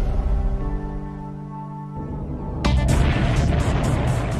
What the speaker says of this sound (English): The blast propels debris from the explosion.